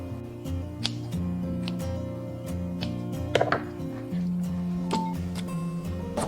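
Scissors snip through dried squid, halving it and then cutting it into thick strips. Crisp, uneven clicks and crunches come close and fairly quiet over a faint steady background hum.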